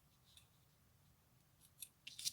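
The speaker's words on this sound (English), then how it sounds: "Okay, so I'm going to cut this off." Scissors cut material for a baby headband, with a few faint, close snips clustered near the end after a quiet pause.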